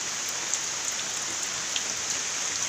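Heavy rain pours down in a steady, dense hiss, with occasional louder drops pattering close by; no voices.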